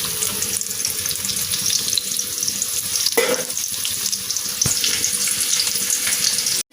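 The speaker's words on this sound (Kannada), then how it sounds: "ನೋಡಿ ಆನಿಯನ್ಸ್ ಫ್ರೈ ಆಗಿದೆ." Onions for veg ball Manchurian fry in a pan with a steady, bright, hissing sizzle and a few stirring scrapes, loud and close, without voices.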